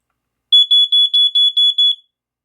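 A newer-model household smoke detector sounding during a button test: seven loud, high-pitched electronic beeps in an even, rapid rhythm, close and alone with no talk.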